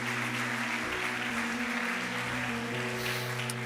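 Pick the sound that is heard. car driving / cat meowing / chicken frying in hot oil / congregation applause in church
congregation applause in church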